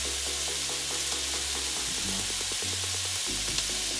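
A gluten-free keto stir fry sizzles steadily in a hot pan, a dense, continuous crackle close by with low background hum and no talking.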